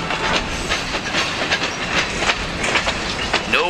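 A southbound freight train rumbles past nearby with steady clickety-clack of wheels over rail joints and a faint squeal near the end.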